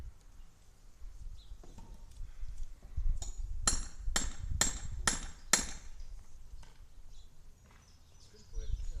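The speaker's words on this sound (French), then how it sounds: "j'entends des coups de marteau" Hammer blows straightening a piece of metal outdoors, a quick run of five sharp, evenly spaced ringing strikes at moderate distance over low background rumble.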